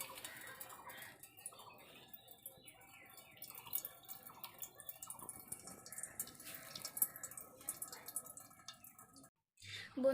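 Soaked tamarind water drips and trickles as it is strained, with small irregular splashes close by in a quiet kitchen and a brief pause near the end.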